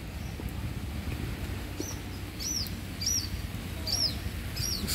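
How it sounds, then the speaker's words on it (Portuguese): Birds chirp in short, repeated bright calls above a steady wash of light rain in a town square in Paramirim, Bahia, the calls coming every second or so and sounding fairly close. "Os pássaros todos cantando"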